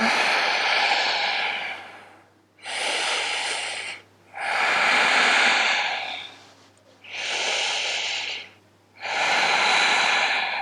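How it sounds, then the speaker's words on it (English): Slow, deep breaths during a vinyasa yoga class stretch with hands interlaced behind the back, five long airy inhales and exhales alternating with short pauses, close and steady, no talking. "Breathing."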